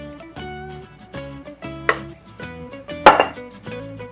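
A spoon scrapes and clinks against a bowl while cream cheese cookie dough is stirred by hand, giving irregular knocks with two sharper clanks over a steady musical backing.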